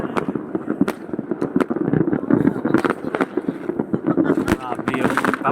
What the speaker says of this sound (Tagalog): Grabe yung paputok dito guys.